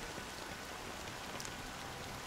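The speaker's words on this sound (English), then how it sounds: "But it's still raining." Steady rain pours in a Honkai: Star Rail scene, a dense, even hiss of drops that stays constant and fairly loud throughout, with no voices.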